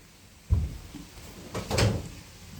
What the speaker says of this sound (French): Ah, tu t'amuses avec les tiroirs?